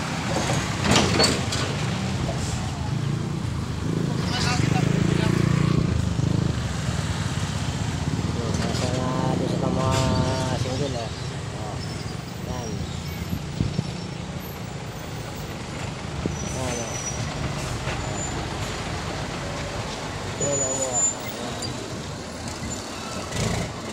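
Traffic on the Maharlika Highway, with trucks and buses among the vehicles, gives a constant broad roar of engines and tires that swells and fades as vehicles pass, with faint talk now and then.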